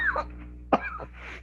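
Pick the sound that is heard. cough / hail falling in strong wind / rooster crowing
cough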